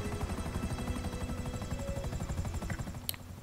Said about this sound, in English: Oh, we got enemy choppers inbound.